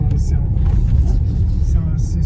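A Jaguar F-Pace with a 3-litre diesel engine gives off a steady, deep low rumble, continuous and fairly close, with faint intermittent higher sounds over it.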